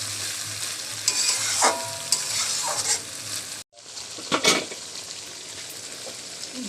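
Chopped tripe (bhuri) is stir-fried with small splashes of water, giving a bright, continuous sizzle broken by stirring scrapes. The sizzle cuts out for a moment, then flares up loudly again.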